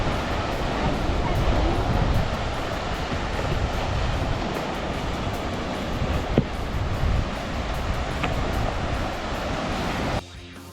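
Ocean waves at Mulki Beach near Udupi make a steady broad wash of surf, with wind buffeting the microphone throughout and no clear pauses.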